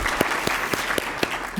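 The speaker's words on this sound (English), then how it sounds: "GOCO deserves a big round of applause for all that they do" An audience at a partners' meeting opening session breaks into steady applause, a dense wash of clapping hands with a few sharper claps standing out, sustained throughout.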